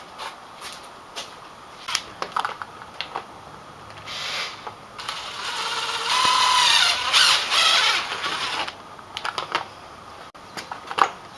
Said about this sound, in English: I took a little drill and made some slack there.